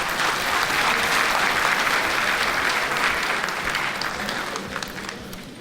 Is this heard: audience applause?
yes